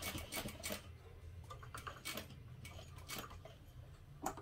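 A domestic sewing machine stitches across a fabric dog collar with a quiet, quick mechanical ticking and clatter, running in short bursts with brief pauses, close by and with no talking.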